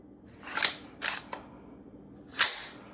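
Sharp metallic clacks as a handgun's slide is racked back on an empty gun, three or four distinct close snaps spaced irregularly with no speech.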